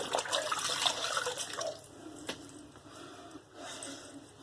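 Running tap water splashing as a Gillette razor is rinsed at a sink, a steady close rush that fades partway through, with a few small clinks and drips afterward.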